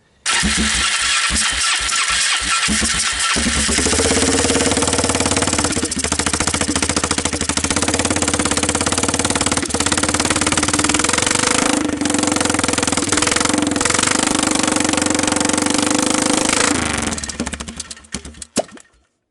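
A Polaris Trail Boss 325 ATV engine cranked with the choke off catches and runs at a loud, rough, steady idle for about fifteen seconds before cutting out, heard up close with no talk.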